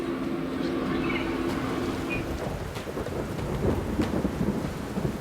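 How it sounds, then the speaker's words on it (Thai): Steady rain drums on a camping tent in Ratchaburi, Thailand, with low rumbles of thunder rolling through, close and fairly loud with no speech. "อ้าวฝนตกแล้วเนี่ย"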